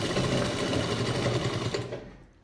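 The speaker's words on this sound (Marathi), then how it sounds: "तर ह्याला इथून शिलाई मारून घ्यायची," A sewing machine runs fast and steadily, stitching a purse lining, loud and close, with a rapid mechanical clatter that stops abruptly near the end.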